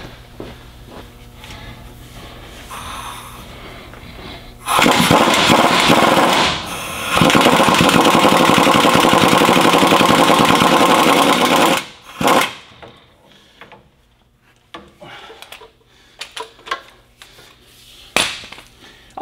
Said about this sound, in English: Let me try to rattle it with an impact.